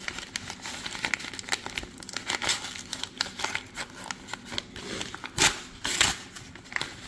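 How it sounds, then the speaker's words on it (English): Tape and paper on a mailed card envelope crinkle and rip in uneven bursts of tearing and crumpling, close and fairly quiet, with a few sharper tears near the end. "We'll just rip the whole thing open."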